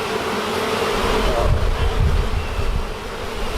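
A honeybee swarm inside a shed makes a dense, continuous buzzing drone throughout, close and fairly loud, with no talk over it.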